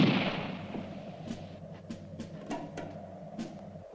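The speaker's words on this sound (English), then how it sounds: "This one is the multiple gunshot trailer." Gunfire in a western film trailer: a rapid run of about eight sharp gunshots at irregular intervals, fairly distant and echoing, over a low rumbling score-like background, with no voices.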